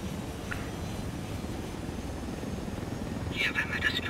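A helicopter rotor thrums steadily in a Ghost Recon Wildlands game scene, loud and close, with faint electronic beeps near the end.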